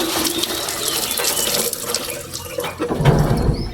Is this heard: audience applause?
no